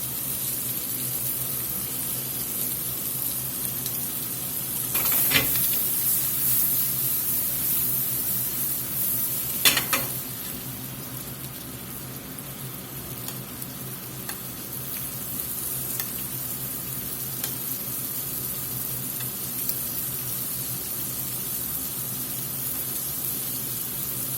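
Shrimp seasoned with black pepper fry in a hot pan on a stove flame, giving a steady soft sizzle with a couple of brief sharp spits, fairly faint and continuous with no talking.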